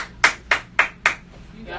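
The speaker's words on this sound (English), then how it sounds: "your clap was powerful" Four hand claps in a steady even rhythm, sharp, close and loud, with a fainter fifth clap trailing off at the end.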